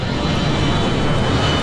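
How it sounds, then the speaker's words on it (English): Roaring aircraft noise from an MD-83 airliner in a steep nosedive toward the Pacific Ocean in an Alaska Airlines Flight 261 accident reenactment, a loud, steady broadband rumble with no voices. "The pilots of Alaska Airlines Flight 261 wrestle with an MD-83 nosediving towards the Pacific Ocean."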